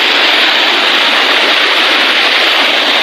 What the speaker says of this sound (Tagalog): naliligo sila sa sapa guys